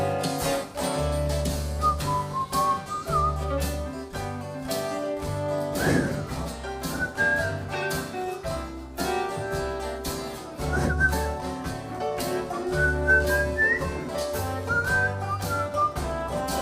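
A person whistles a wavering melody over steady music with a beat, the whistled notes gliding and repeating across the passage.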